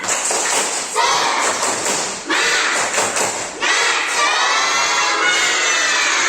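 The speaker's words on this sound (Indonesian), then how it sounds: "Tepuk semangat" Classroom of sixth-grade schoolchildren shouting and cheering loudly together in bursts, with thumping claps and voices filling the room throughout.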